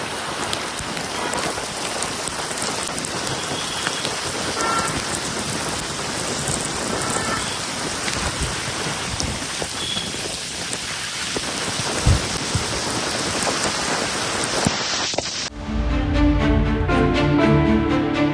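A sudden rain shower pours over a city in a loud, dense hiss of drops on surfaces, with occasional heavier splashes, before music abruptly takes over at the end.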